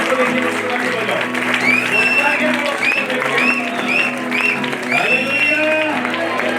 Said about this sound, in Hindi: उसको देखिए, उसको ताली बजाओ